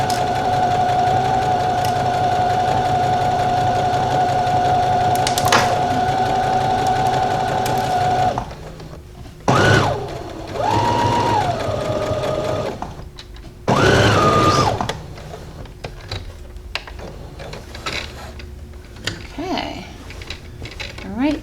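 A sewing machine stitches a men's shirt in a loud, continuous run lasting about eight seconds, then a few shorter bursts follow, separated by pauses with clicks and handling noises.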